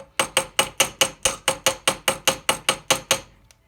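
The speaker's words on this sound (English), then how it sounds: "I just hammer one side" Steady hand hammering on a metal chain link, about fourteen sharp even blows in a row, close and loud, with nothing else heard.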